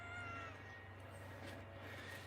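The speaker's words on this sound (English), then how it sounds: "By the way, this is my cat Charlie." A pet cat meows indoors: a drawn-out, fairly close cry over a steady low hum, with no one speaking.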